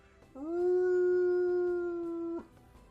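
A dog howls once in a single long, steady, tonal note lasting about two seconds, loud and close against a quiet background.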